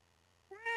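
A pet cat gives a single short, close meow that rises in pitch, following a near-silent moment.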